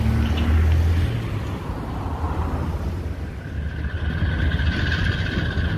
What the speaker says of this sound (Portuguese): dupla de locomotiva ES44ACI chegando aqui no Pátio do Barreiro